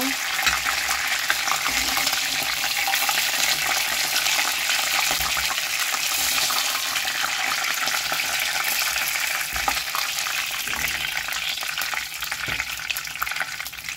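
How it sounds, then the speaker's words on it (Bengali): Chicken fries in oil with a steady, dense sizzle that holds constant throughout, broken by faint occasional stirring clinks and no voices. "এটা ভালো করে ভেজে নিলাম চিকেনটা"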